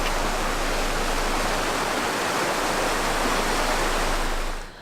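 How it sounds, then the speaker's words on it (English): Mountain creek water rushes steadily down a canyon, a loud, unbroken broadband roar close by that cuts off abruptly at the end. "It then travels miles down the canyon and becomes what we call Coal Creek."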